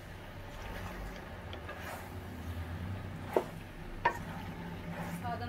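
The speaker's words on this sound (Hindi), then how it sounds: "अब मैं इसमें मैक्रोनी ऐड करूंगी और इसको बहुत अच्छे से मिक्स कर लेंगे" Macaroni pasta with melted tomatoes is stirred in a pan for Indian masala macaroni, a soft steady sizzle and scraping with two sharp spoon taps against the pan partway through.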